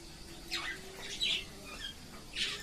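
Several short pigeon squawks and coos come in bursts against a quiet background, close by inside a netted pigeon house, with brief pauses between calls.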